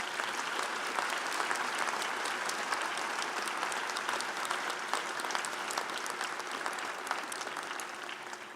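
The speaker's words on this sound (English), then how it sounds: "So let's give them a big round of applause." Sustained applause from a large audience at a McGill University fall convocation ceremony, a continuous even roar of many hands clapping in a big hall, moderately loud for over eight seconds.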